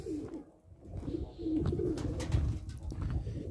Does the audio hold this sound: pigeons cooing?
yes